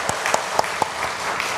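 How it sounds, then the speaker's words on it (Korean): A church congregation claps briefly to welcome a pastor during Sunday worship, a short burst of applause with a few sharper, distinct claps standing out. "박수로 환영합니다"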